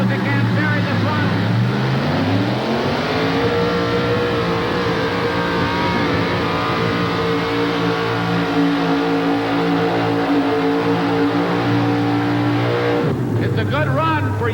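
A pulling truck's engine revs hard through a truck pull run at a 1988 Memphis event, loud and steady, with the pitch climbing early and then holding for a long stretch until it drops off near the end. An announcer talks over it.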